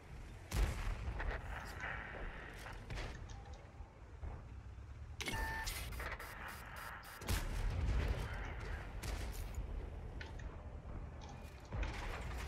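Heavy artillery fire from a Bison tank destroyer in the World of Tanks video game: loud, booming shots in bursts over a dense game soundscape of rumble and combat noise.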